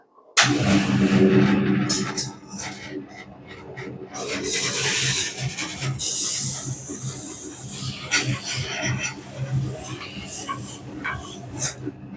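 An electric grinder motor whirs up abruptly and keeps running with a rough, grinding rasp that rises and falls, close and fairly loud.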